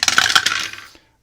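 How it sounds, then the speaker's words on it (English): Three twenty-sided dice clatter and tumble across a table during a turn of a disc golf board game, a quick burst of bright rattling clicks lasting about a second, then stopping dead. "Alright, so on my turn, I'm going to roll 3 d20s."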